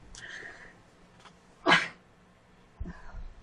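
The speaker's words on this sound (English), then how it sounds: "I feel the sneeze coming on." A single short sneeze bursts out sharply mid-clip from someone coloring, near and fairly loud, between quieter breaths and faint background noise.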